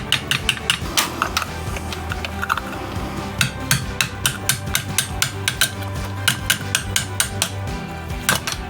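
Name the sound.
hammering a chisel punch to close window regulator case tabs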